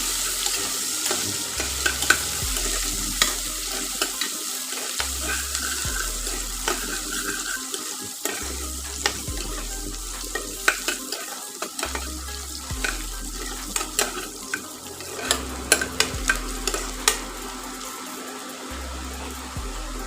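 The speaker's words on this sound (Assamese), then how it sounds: "আৰু দিছোঁ এটা সৰু তেজপাত পিঁয়াজটো ধুনীয়াকৈ মই ভাজি ল'ম" Chopped onion frying in oil with a small bay leaf makes a steady low sizzle, close by, broken by frequent light scraping and stirring clicks against the pan.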